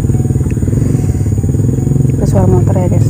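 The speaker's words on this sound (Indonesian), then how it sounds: "Ada suara motor ya guys." A motorcycle engine rumbles steadily nearby, swelling louder toward the end as it passes close by, with a voice speaking briefly over it.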